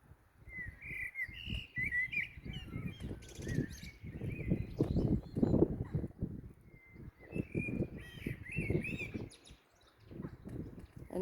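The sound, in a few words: blackbird singing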